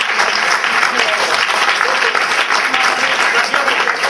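An audience breaks into sustained applause, a dense, even roar of many hands clapping throughout, with faint voices mixed in.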